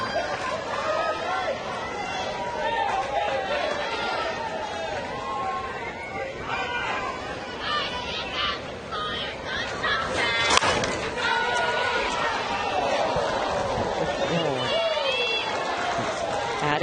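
A crowd at the Little League Softball World Series championship game cheers and chatters loudly, with excited shouts and rising roars sustained throughout, a sharp crack partway through.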